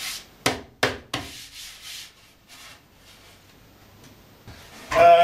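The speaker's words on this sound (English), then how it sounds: "It's just sanding it down so it's nice and smooth and soft." A wooden longboard deck is sanded by hand with sandpaper wrapped over a sponge: three quick, sharp rasping strokes, then softer, scattered rubs and a louder scrape at the end, close and with no voices.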